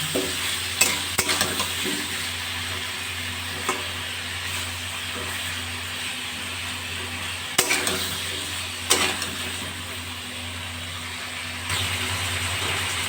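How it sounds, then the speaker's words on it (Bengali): Dalia khichuri spices with sugar and grated ginger cook in a pan over a lowered gas flame, giving a continuous close sizzle and hiss broken by a few sharp stirring scrapes and clinks. "এক ইঞ্চি আদা গ্রেট করে রেখেছিলাম দিয়ে দিলাম গ্যাসের ফ্লেমটা আবার কমিয়ে দিয়েছি নাড়াচাড়া করে দিলাম"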